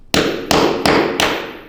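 Four sharp, close hammer blows on concrete as it is chiselled by hand, evenly spaced about a third of a second apart, each strike ringing briefly before the next.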